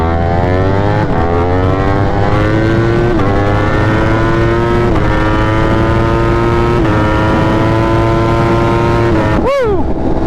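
A motorcycle in race mode accelerates hard along a highway, its engine climbing through several gear changes in loud rising sweeps close to the rider, with wind rush throughout.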